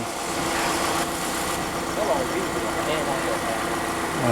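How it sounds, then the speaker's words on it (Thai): A car engine idles steadily and smoothly after an A-Tech box has been installed, a continuous even hum at close range with someone talking over it throughout. "รอบของเครื่องยนต์เนี่ยจะเดินนิ่งขึ้นกว่าเดิม จะเดินเรียบขึ้น"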